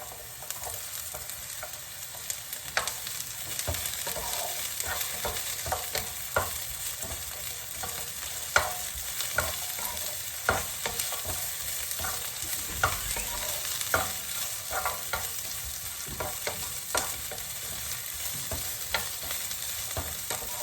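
Peppers stirred into Cajun vegetables frying in a hot pan, a steady close sizzle with scattered scraping and stirring clicks throughout, no voices.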